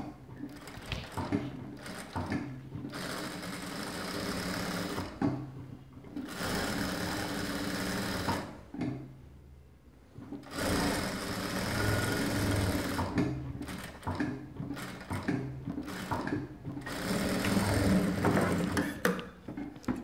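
A sewing machine stitches a shirt collar with canvas fusing in loud, rapid mechanical bursts of a few seconds each, broken by short pauses as the fabric is repositioned.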